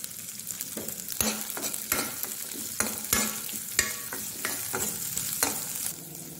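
Shallots and green chillies sauté in a pan with a continuous sizzle, broken by repeated sharp scrapes and clinks of a spoon stirring against the pan, close and without speech.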